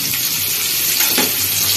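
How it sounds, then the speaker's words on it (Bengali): Cauliflower pieces fry in oil with a loud, close, continuous crackling sizzle over a short burst, no talking. "লাল করে ভেজে নিলাম।"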